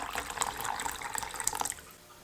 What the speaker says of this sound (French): Et puis je vais ajouter la dernière tasse d'eau.